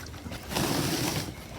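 A damp, partly wrung-out towel drops into bath water, giving a short, soft splash and slosh that swells briefly and fades, fairly faint and alone.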